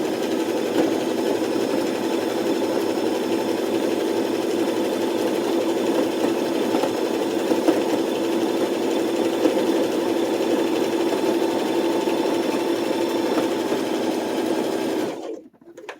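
A sewing machine runs continuously, stitching through two layers of fabric with a steady, fast mechanical whir and hum close by, stopping abruptly near the end.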